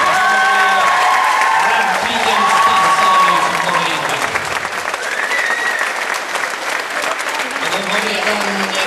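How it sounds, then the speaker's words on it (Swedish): Loud, sustained applause from a live audience at a dance competition's starter class heat as the dancers enter, with an announcer's voice speaking over the clapping throughout. "Och ge dem en varm applåd nu när de kommer"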